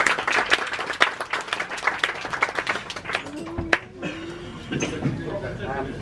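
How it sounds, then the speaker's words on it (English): Audience applause at a poetry festival dinner, steady clapping through the first half with talk over it, then fading into quieter room sounds. "A round of applause for the restaurant and the waiting staff"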